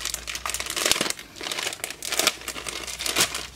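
Plastic bag packaging being handled: crinkling and rustling in bursts over a few seconds, close and moderately loud, with no talking.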